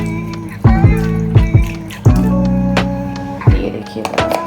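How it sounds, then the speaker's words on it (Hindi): Coconut water is poured into a blender of fruit for a smoothie, making a close, bubbling, gurgling liquid sound. Several distinct glugs stand out over a few seconds. "और पानी की जगह मैं इसमें डालूँगी कोकोनट वाटर।"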